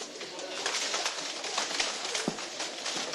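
Racing pigeons coo at a 2007 basketing session for a pigeon race, a dense, steady murmur of birds close by, with scattered clicks and rustling throughout.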